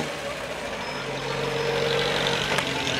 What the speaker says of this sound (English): It's a 1250cc four-cylinder engine